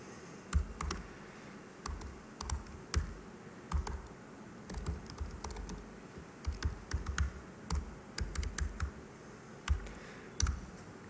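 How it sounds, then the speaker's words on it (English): Typing on a computer keyboard during a live database demo, with irregular bursts of close, crisp key clicks separated by short pauses, steady quiet room tone underneath. "there's nothing like doing a live presentation to show how bad your typing is"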